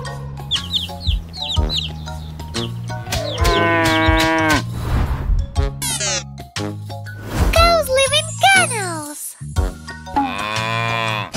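A cartoon cow moos amid farmyard animal sounds, with clucking chickens, over bright children's music, with a voice speaking between the calls.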